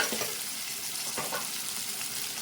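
Chopped onions frying in a pan for a broad bean curry, a steady broadband sizzle with a few louder crackles and stirring scrapes, close and continuous with no talk.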